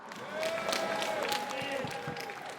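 Crowd at a rap battle applauding the rapper, a moderate wash of clapping and cheering with chatter mixed in, lasting a couple of seconds.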